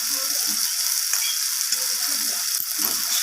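Garlic paste with ground cumin sautés in a hot pan for a rohu fish curry with potato, pointed gourd and eggplant, producing a loud, hissing sizzle with scattered soft scraping stirs, close and steady throughout.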